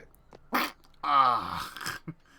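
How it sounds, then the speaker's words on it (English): A cartoonish jump sound effect from a GameCube platformer, a buzzy, fart-like blurt with bending pitch that comes in short bursts, loud and close over a quiet background. "every time you jump, it sounds like he's gonna fart"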